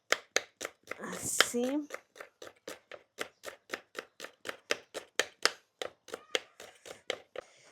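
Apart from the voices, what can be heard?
chopping leek with a knife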